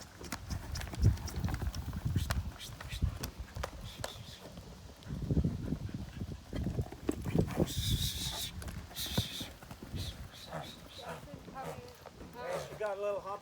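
Hooves of a horse loping under saddle during a training ride, a steady rhythmic clip-clop close by, mixed with rider movement and some faint higher tones, with a person talking over parts of it.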